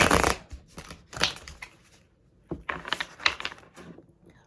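A tarot deck is shuffled by hand up close in a quiet room, giving several sharp riffling bursts separated by brief pauses.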